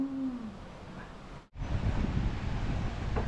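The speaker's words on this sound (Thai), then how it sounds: "ลมดีอ่ะ ลมดีมาก ๆ" Wind blowing at a seaside villa in Samui, a steady rushing buffet against the microphone that drops out briefly and then returns stronger and rougher.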